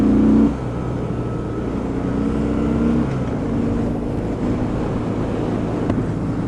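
A 2017 Harley-Davidson Breakout motorcycle pulls in third gear during a test ride, its engine holding a loud, steady drone that climbs gradually as it accelerates.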